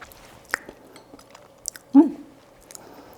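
Someone chews a small bite of mozzarella mixed with garlic olive oil for bruschetta, giving a few soft, faint mouth sounds and one brief louder wet chew close up in a quiet room.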